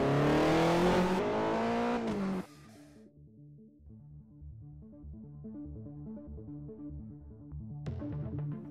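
A Toyota Celica ST205 in the Forza Horizon 4 racing game revs hard at first, then its engine settles into a steadier, quieter drone that builds again toward the end.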